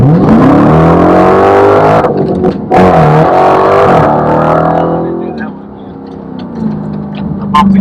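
A Dodge Challenger Demon accelerates hard, its engine rising in rapid revving sweeps broken by abrupt shift drops and a missed gear, loud and close, with a voice talking over parts of it.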